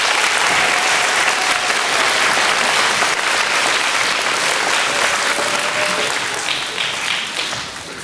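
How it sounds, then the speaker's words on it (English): Dense, loud applause fills an award ceremony hall, a steady wash of clapping from the audience that holds throughout and tapers slightly at the end. "So please give them a round of applause."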